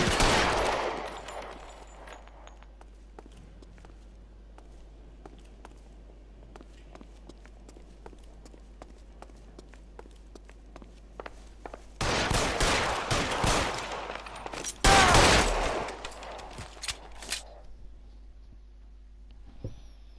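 Gunfire in the video game L.A. Noire, a few loud sharp bursts of shots clustered near the middle and end, separated by quieter stretches of game ambience and footsteps.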